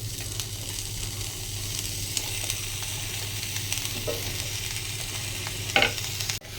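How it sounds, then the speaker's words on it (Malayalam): Washed eggplant pieces tossed into a hot frying pan, a loud continuous sizzle with stirring scrapes and a sharp clatter near the end, no voices. "ഇതിലേക്ക് നമുക്ക് നമ്മുടെ കഴുകി വെച്ച വഴുതിനിങ്ങ ചേർത്ത് കൊടുക്കാം"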